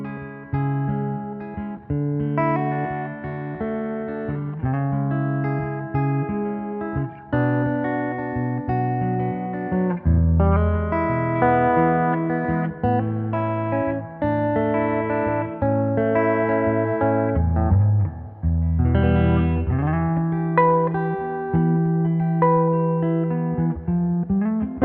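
An electric guitar plays clean straight into a Fender Jack White Pano Verb amp with no fuzz pedal, sustained chords and melodic lines ringing loud and full with some reverb for about twenty-five seconds.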